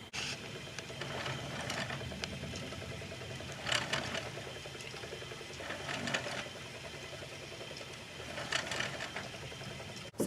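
A spinning wheel plies 2-ply yarn with a steady whirring, rhythmic mechanical hum, a few louder clacking swells along the way, close and with no talk.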